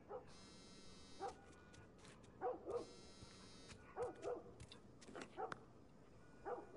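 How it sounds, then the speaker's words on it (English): A dog barks in The Last of Us video game, a series of faint, distant yips and woofs in small bursts over several seconds against a quiet background. "Notice the dog barking."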